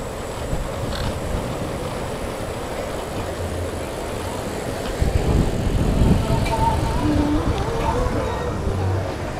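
Steady city traffic noise with passing cars heard from a Brompton folding bike fitted with a Swytch electric kit, a continuous broadband rumble that swells briefly midway.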